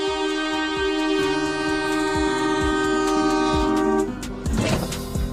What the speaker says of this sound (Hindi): ट्रेन लगातार वार्निंग के तौर पर हॉर्न बजा रही थी